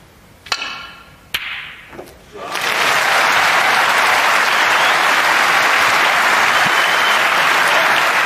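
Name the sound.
audience applause at a snooker match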